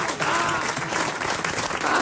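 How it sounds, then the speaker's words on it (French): Studio audience applause on a French television comedy panel show, a steady dense wash of clapping at close range that holds through the whole stretch with no talk over it. "On l'applaudit quand même."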